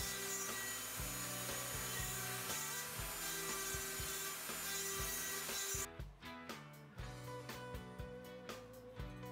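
A file scraping excess solder off the back of a brass knife guard, rhythmic rasping strokes under a steady whining machine noise that drops away partway through, leaving distinct separate strokes, close by with no talk.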